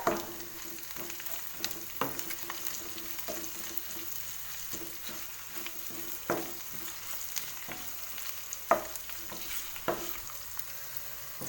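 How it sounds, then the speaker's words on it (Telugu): Sliced onions with a spoonful of ginger garlic paste fry in a pan, giving a steady soft sizzle. Scattered scrapes and taps of stirring break in at intervals, and no one talks. "దీంట్లో ఇప్పుడు 1 స్పూన్ జింజర్ గార్లిక్ పేస్ట్ వేసుకోవాలండి. వేసుకొని పచ్చివాసన పోయేదాకా ఫ్రై చేయాలి."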